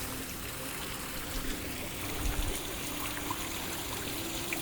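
Water from a hot spring creek on the Canadian coast flows steadily with a broad, even rush and faint trickling, close and constant, with a brief low thump partway through and no talk.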